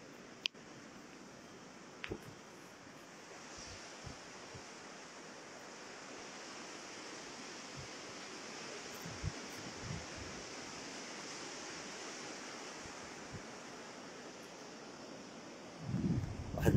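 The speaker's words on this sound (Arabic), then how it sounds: "البحر اضافه للشتاء" Sea surf rolling onto the shore beside a mosque on the coast during rain, a steady broad wash of waves and rainfall with no voices, swelling briefly louder near the end.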